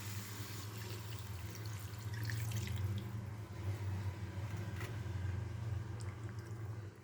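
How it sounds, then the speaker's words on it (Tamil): Water is poured into a pan of hot and spicy chicken gravy as it cooks, a steady close splashing and gurgling stream that swells midway and then runs on evenly with no talking. "இப்போ தண்ணி நம்ம ஆட் பண்ணிக்கலாம்."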